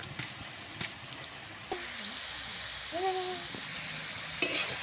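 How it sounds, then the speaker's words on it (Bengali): Fresh pea greens stirred and fried in a wok, with a continuous close sizzle and occasional scraping of the utensil, plus a brief faint tonal sound midway. "শাকটা সুন্দরভাবে লাড়াচাড়া করি ভেজে নিই।"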